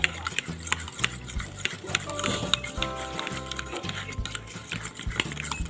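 Two eggs are beaten by hand in a bowl, giving a quick, steady, rhythmic clatter of repeated strokes at close range, partly under a voice talking.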